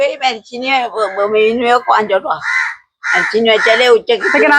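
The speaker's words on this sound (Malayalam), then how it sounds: "കാക്ക വന്നിരുന്ന് വിളിക്കണ വിളിയൊക്കെയാണ്." A crow caws repeatedly and loudly, harsh calls close by, with a short pause midway before the cawing resumes.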